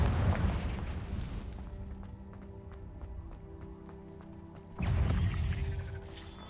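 Confringo fire spell explosions in the Hogwarts Legacy video game: a loud blast opens, fades into a tonal, clicking bed of game sound, then a second burst strikes near the end.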